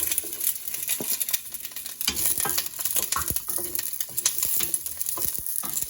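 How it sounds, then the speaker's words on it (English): Peppers and onions sauté in olive oil in a home pan, with a steady, close sizzle and frying crackle as they are stirred, continuing throughout. "I'm going to saute a little bit the peppers and onions."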